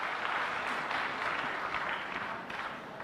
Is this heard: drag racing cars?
no